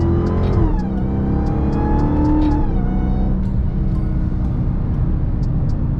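A Dodge Hellcat V8 winds up through its gears under hard acceleration, with paddle shifts marked by rising engine tones that drop at each change, loud and close, then settles into a steady roar.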